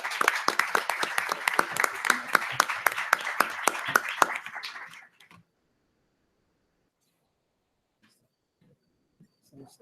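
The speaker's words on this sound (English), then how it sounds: "please welcome him with a round of applause" A conference audience gives a round of applause for a guest joining a panel on intergenerational equity and youth, rhythmic clapping for about five seconds that fades and stops, followed by near silence and faint rustles.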